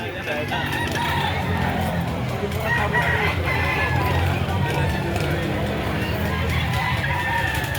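Roosters crow and hens cluck amid a busy outdoor bustle at a chicken market in Padre Garcia, Batangas, with people chatting in the background throughout.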